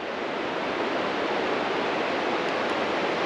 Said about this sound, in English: So right now I'm in a forest with a beautiful river.